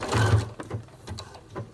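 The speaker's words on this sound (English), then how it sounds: "I have got a stretch stitch on my sewing machine, so I'm just going to start off by getting it kind of anchored down." A sewing machine sews a stretch stitch into a jersey neckband, giving a short close burst of motor whir and needle clatter, then a few lighter intermittent ticks.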